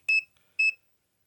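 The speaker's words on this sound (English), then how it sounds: "In that amount of time, that beep beep, it measured from my hand to that laser." Two short, bright electronic beeps from an Inkerma 2-in-1 laser tape measure taking a measurement, close by and evenly spaced, with silence between and after them.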